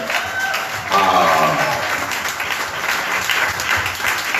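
A church congregation claps and applauds together in a steady, dense burst of hand claps with some crowd voices, swelling briefly then holding at a lively level throughout.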